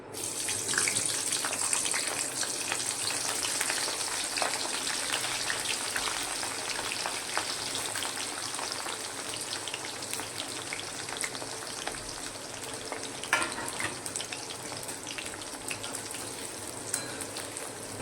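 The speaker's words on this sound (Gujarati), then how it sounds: "અને હવે ફ્લાવર તળી લેશું" Cauliflower florets deep-frying in oil for a rich shahi cauliflower curry, a dense, steady hiss and crackle of bubbling oil that runs unbroken and close, with no voices over it.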